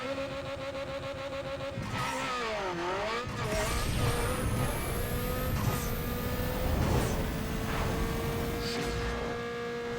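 A Mazda RX8 1.3L two-rotor engine in Need For Speed Underground 2, revving high at launch and climbing through the gears, a loud sustained whine with pitch sweeps at the shifts and faint tire noise beneath.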